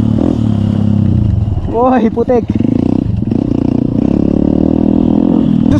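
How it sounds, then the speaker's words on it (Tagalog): A Honda CR-150L motorcycle runs on a muddy trail, its engine and muffler droning steadily and close throughout with a brief rev in the middle, while a rider speaks over the noise. "Sa muffler, nakakahinga ng maigi yung motor ko."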